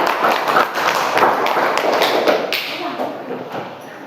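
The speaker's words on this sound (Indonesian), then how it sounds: "Beri tepuk tangan untuk kelompok ladam" Students in a classroom applaud a group about to present, a dense patter of many hands clapping that slowly thins and softens toward the end.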